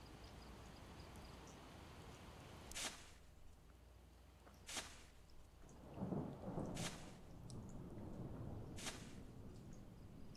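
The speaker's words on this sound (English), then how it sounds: "Oh, raining." Video game rain and thunder: steady rain hiss with several sharp thunder cracks spaced a couple of seconds apart, plus a low rumble rolling through midway.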